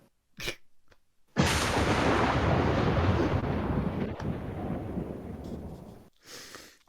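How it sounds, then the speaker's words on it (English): A thunderclap sound effect bursts in loud and dense, rumbling steadily for about five seconds before dropping away, with faint breathy noises before and after. "I don't have a thunderclap sound effect, but Oh, I do."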